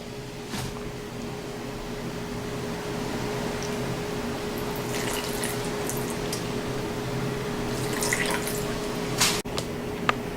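Tap water runs steadily into a kitchen sink as hands are washed, a soft continuous hiss with faint splashes and a couple of small clinks near the end, no talking.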